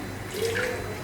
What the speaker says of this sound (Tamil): கொஞ்சம் தண்ணி ஆட் பண்ணிக்கிறேன்.